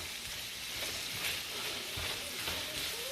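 Turkey and aromatics frying in a pan while being stirred, a steady close sizzle with soft scraping strokes, no talk.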